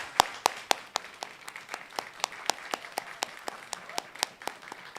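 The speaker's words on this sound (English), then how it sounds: "she deserves a round of applause for everything she did" Scattered applause from a small congregation at a church service, a few distinct hand claps at an uneven rhythm, fairly close and modest in volume, with no talking over it.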